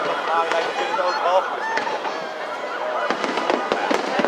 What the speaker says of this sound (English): fireworks going off the Brooklyn Bridge